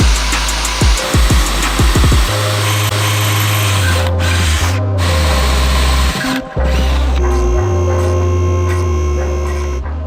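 A power drill bores a hole into an aluminum nitrous manifold plate for an R34 engine, a few short bursts starting up then a loud steady whine with brief pauses, no talking.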